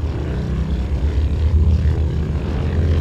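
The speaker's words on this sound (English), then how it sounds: "Shut down that big Pratt & Whitney" The big Pratt & Whitney radial engine of a Hughes H-1 Racer with a twin-blade propeller, in Flight Simulator X, drones steady and loud in a low, throbbing hum with no talk over it.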